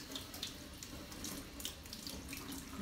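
Cold tap water runs steadily into a kitchen sink, rinsing Brussels sprouts in a colander, a continuous close splashing hiss with small spatters and no talking.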